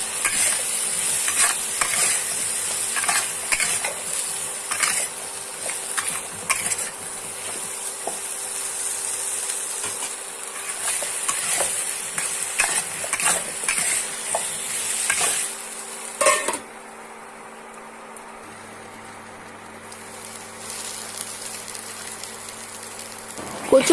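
Taro pieces with turmeric and salt fry in a pan while being stirred, giving a steady sizzle with frequent scraping strokes for about sixteen seconds before the sound drops to a quiet low hum.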